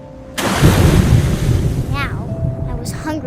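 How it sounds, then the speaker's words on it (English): Ocean surf crashes in loudly and holds as a steady wash of waves with some wind, heard in the game What Remains of Edith Finch after a shark rolls off a cliff into the sea. "I rolled off a cliff and into the ocean."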